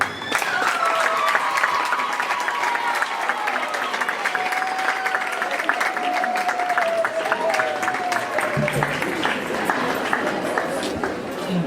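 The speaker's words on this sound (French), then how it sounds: "Que vos enfants vous applaudissent." Schoolchildren applauding during an official visit to a school in Muanda, Kinshasa, with steady, dense clapping sustained throughout alongside a long, wavering voice.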